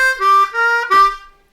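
A harmonica plays a riff, three short bending notes, bright and close, alone with no other sound.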